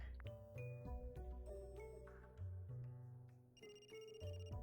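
Phone ringtone in the Another Code Recollection video game, a repeating electronic melody of bright tones, moderately close, with background game music.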